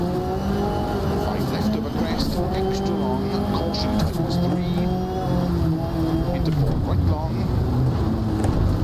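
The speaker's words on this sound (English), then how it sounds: "Engine doesn't sound too good." A rally car's engine in DiRT Rally 2.0 career mode runs rough, droning loudly with shifting pitch and wind-like rushing noise, while someone talks over it.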